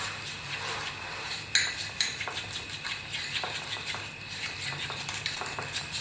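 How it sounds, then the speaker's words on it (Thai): An egg yolk and sugar salad dressing beaten by hand with a fork, irregular metallic clinks and scrapes against the bowl over a soft background hiss, close and without talk. "เอาช้อนซ่อมเนี่ยค่ะตีตี ให้สีไข่อ่อนลง"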